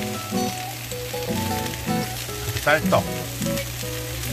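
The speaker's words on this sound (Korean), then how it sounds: "양배추를 풀이 죽을 때까지 조금 더 볶은 다음에" Cabbage, pork and rice cakes stir-fry in a pan with a soft sizzle, spatula clatter and a few scraping strokes, while someone talks briefly over the cooking.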